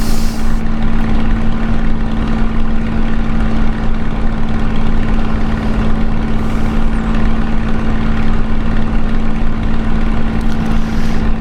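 Spitfire piston engine heard from inside the cockpit, a loud continuous drone with a steady low hum throughout, no voices.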